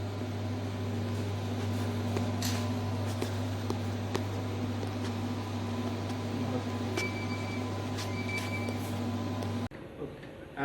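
An X-ray diffraction machine runs in a laboratory, giving a steady low mechanical hum with constant fan-like noise and a few faint tonal beeps, then cutting abruptly to quieter room sound near the end.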